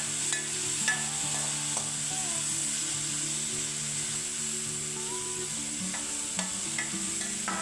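Chopped onion sizzles steadily in hot oil in a pan, with occasional stirring scrapes, while Konkani prawn curry is being cooked; a continuous close frying hiss with no talking.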